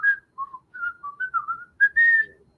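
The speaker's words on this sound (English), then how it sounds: "the intro was a brand new thing featuring Steamboat Willie whistling" Steamboat Willie whistling a short jaunty tune in a Disney intro, a clean solo melody of quick separate notes, close and clear against silence.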